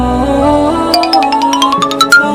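Bright notification bell chime rings out over a soft musical bed, a quick run of high, clear dings repeating in close succession, loud and near.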